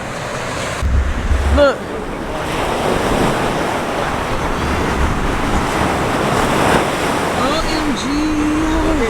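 Ocean waves and surf roll in steadily, mixed with gusting wind buffeting the microphone, while a person speaks briefly near the start.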